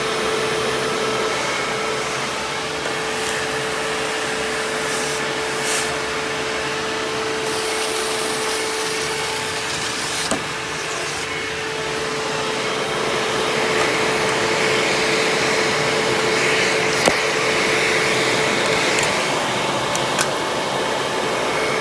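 Hoover WindTunnel bagless self-propelled upright vacuum, model U6616-900, running steadily with suction diverted to the hose, a constant loud motor whine and airflow roar with a few brief clicks and bumps throughout.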